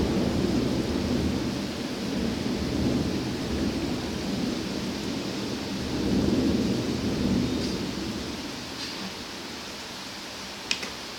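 A thunderstorm with heavy wind and driving rain roars steadily and loudly, with rumbling swells of thunder, a few brief sharp taps near the end, and no talking.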